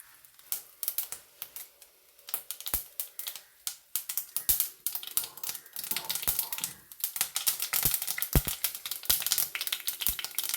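Mustard seeds popping in hot coconut oil in a pan for a Kerala chembu koottan curry: rapid, irregular sharp crackles and pops over a soft sizzle, sparse at first and growing denser and louder, close by.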